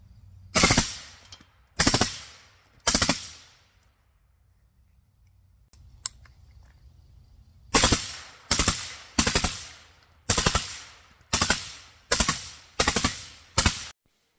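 Suppressed AR-15 rifles, a gassy carbine and a flat-shooting rifle-length gas system, fire about twelve loud, sharp shots in spaced groups, with a quiet pause between them and no talking.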